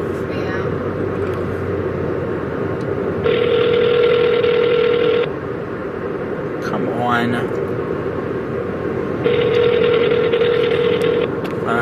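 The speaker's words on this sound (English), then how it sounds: "I'm calling Dad right now." A phone call rings out unanswered: two long, evenly spaced electronic ring tones sound about six seconds apart, each lasting roughly two seconds, over a background of room noise and a brief rustle between them.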